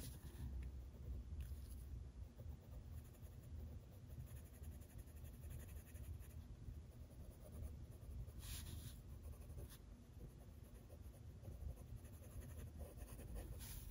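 Steady scratchy shading of a single colored pencil rubbed across paper, a soft continuous rasp that runs unbroken throughout, close and fairly quiet with no talking.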